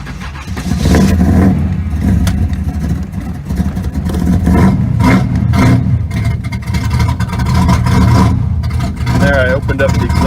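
1983 Chevy Camaro Z28 hot rod with a big-cam V8, 750 carburetor and opened-up exhaust, cranking over and catching, then revving in loud, choppy bursts between lumpy idle, with a voice talking over it.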